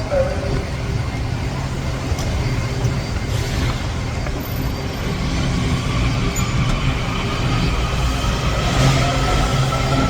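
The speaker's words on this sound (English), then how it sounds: "This is the North Line train" A Washington DC metro train on the North Line rolling along with a steady, loud roar and rumble that builds slightly toward the end, with faint voices in the background.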